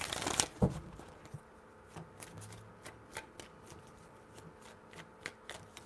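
Tarot cards being shuffled by hand, a strong riffle burst near the start followed by a steady series of soft, light card taps and slides, close and alone without talk.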